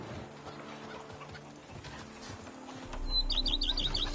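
Horse hooves clop softly in The Witcher 3: Blood and Wine amid ambient game sounds, with a burst of bird chirps near the end.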